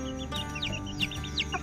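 A hen and her chicks in a coop make soft clucks mixed with high peeping, close and continuous.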